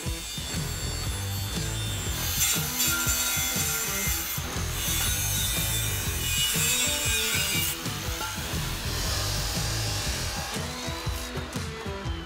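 Cutting machine slicing through steel posts, a loud, continuous grinding and rasping cut that holds steady for about twelve seconds, close by with no talk.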